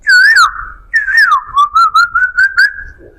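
A mimicry artist whistles an imitation of a koel bird call, close and loud: two rising warbled phrases followed by a run of short repeated notes.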